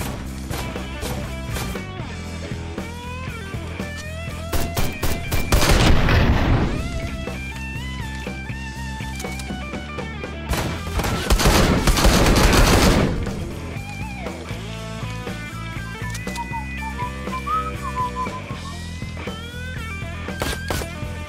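Shotgun fire in Ride to Hell: Retribution, two heavy bursts of blasts rising out of a dense bed of game music and effects, loud and up close.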